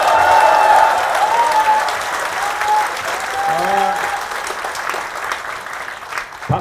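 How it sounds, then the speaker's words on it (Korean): Applause from an audience at a Korean political party town-hall meeting with local residents, a thick clapping wash with voices mixed in and a few whistle-like tones over it. "박수를 너무 빨리 쳤습니다."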